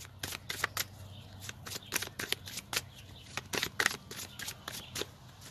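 Tarot cards being shuffled and drawn, a quick run of crisp riffling snaps and flicks in uneven bursts, close and fairly soft over a low hum.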